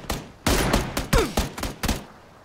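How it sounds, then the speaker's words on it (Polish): Gunfire in PlayerUnknown's Battlegrounds shattering a car window, heard as a rapid burst of about seven loud, sharp shots in under two seconds, close and alone with no talk. "On mi pierwszym strzałem wydupił szybę."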